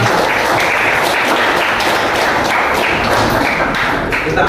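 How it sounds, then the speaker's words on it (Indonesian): A class of schoolchildren claps together at the end of a lesson, loud dense clapping with a rough pulse running throughout, close and unbroken. "Tepuk tangan bersama-sama."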